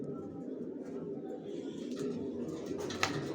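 Soft, low cooing of racing pigeons inside a loft, faint and somewhat muffled under a background hum, with a brief sharper sound near the end.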